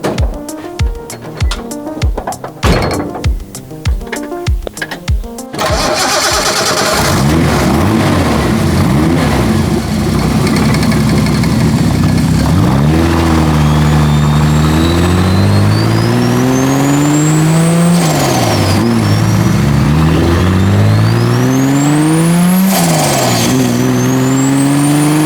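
Turbocharged Datsun Z with a 300 hp L28 engine and custom exhaust: a few loud engine pops and cranks at first, then a sustained close, raspy exhaust note rising and falling through repeated revs and gear changes while driving.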